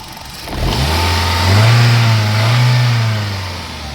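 A used car for sale in Jorhat, Assam, revs its engine close by: a steady mid-low hum that swells twice into louder revs, then eases back toward idle, with no voices.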